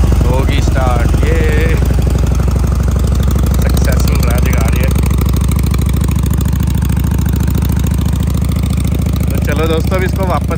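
A Harley Davidson Iron 883 motorcycle engine idles loud and close with a steady, throbbing rumble for about ten seconds, while someone talks intermittently over it.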